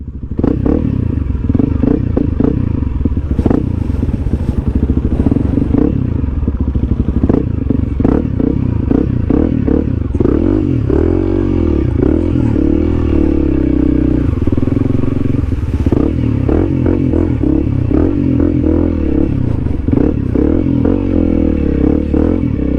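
A 300L dual-sport motorcycle rides off-road through mud, its engine droning loud and steady throughout with revs rising and falling, under clattering, scraping and thumping from the rough ground, close to the rider.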